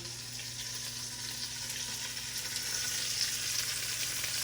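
Lamb chops sizzle and crackle in a hot pan as they are flipped. A steady, fairly quiet frying hiss runs throughout and grows slightly louder toward the end, with no talking.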